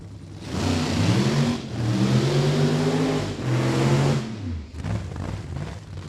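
A nitro-fuelled Outlaw Fuel Altered drag car with a big-inch Hemi engine roars loudly down the dragstrip, its engine climbing through repeated rising revs and gear changes before it drops off and fades.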